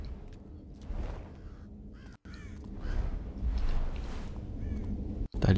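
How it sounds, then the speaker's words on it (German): A crow caws several times in the stealth video game Thief, harsh repeated calls over a low wind-like ambient rumble, with no talking. "So dicht, da war ein Vogel."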